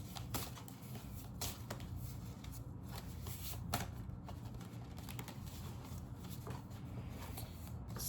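Steady papery riffling of tarot cards being shuffled, a continuous close-up rustle with small flicks and taps, no talking.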